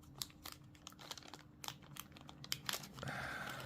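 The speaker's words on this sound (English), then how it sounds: "So we have the plastic bag" Plastic bag packaging crinkles during the unboxing of a Montegrappa Witcher limited-edition pen, close, sharp crackles and rustles in irregular bursts, quiet with no talking.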